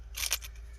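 Shears snip green fronds from a palm tree in a couple of quick, crisp crunching cuts close by, with no one speaking.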